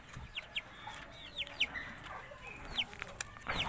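Krenos breed rooster on a farm, with repeated short clucks and calls scattered through the clip amid other birds and faint background farmyard noise.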